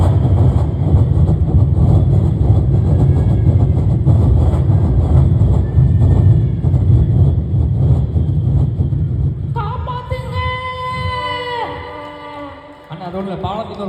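A voice imitates a train crossing a bridge, a loud continuous rumbling clatter that runs steadily and then gives way to higher squealing tones before fading out.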